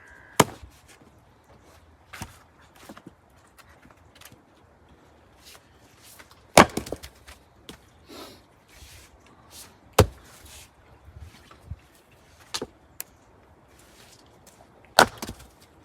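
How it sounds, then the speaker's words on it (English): Wood being split outdoors with a Fiskars X27 splitting axe, often swung one-handed: sharp, loud chopping cracks at irregular intervals, about seven distinct strikes, with quieter shuffling and splintering between, no talking. "And I will be using my Fiskars X27 Axe."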